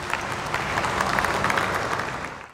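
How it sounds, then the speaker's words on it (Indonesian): A crowd at a retail app's grand launch event applauds in a short, dense, even burst of clapping that holds steady for a couple of seconds before cutting off. "Kasih tepuk tangan"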